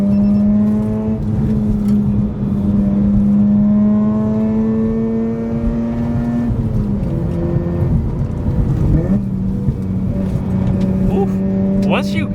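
A Mazda RX-8 rotary-engined car accelerates with a steady droning engine note that climbs, then drops sharply as it downshifts, with rev blips and shifting tones. The engine is close and fairly loud, with no talk.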